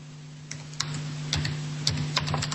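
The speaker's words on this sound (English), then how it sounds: "I hear somebody typing." Keys clatter irregularly in light, scattered taps, a keyboard being typed on at a distance over a steady low electrical hum.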